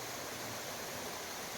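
River water flows along the Hochberg trail valley, a dense, even rushing wash that fills the sound from start to finish with no pauses.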